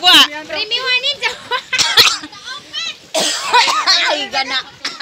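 Someone coughs several times in short bursts during a lively team contest, mixed in among loud, excited talking and shouting nearby.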